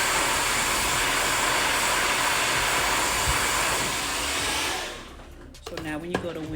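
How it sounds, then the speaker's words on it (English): A blow dryer roars steadily at close range for several seconds, blowing hairs through a lace wig, then switches off, followed by brief handling clatter. "get your blow dryer, and blow all of them through to the other side."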